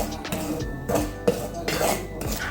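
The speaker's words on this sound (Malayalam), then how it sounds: "ഇതിന് ശേഷം 1 കപ്പ് അരിപ്പൊടി വറുത്തെടുക്കാം." Rice flour being dry-roasted in a pan over a medium flame for Kerala-style achappam, with a utensil scraping and clinking against the metal pan in repeated strokes, close and moderately loud.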